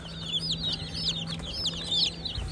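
Chickens and small chicks cluck and cheep continuously at close range, with busy overlapping high chirps over a steady low hum, no talking.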